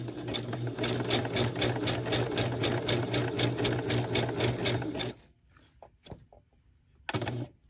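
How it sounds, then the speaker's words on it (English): Sewing machine running steadily for about five seconds, stitching yarn held under the presser foot, with a fast, even mechanical whir; it stops, then a few faint handling clicks and a brief restart follow. "if you don't like the sound of sewing, you might want to mute this part"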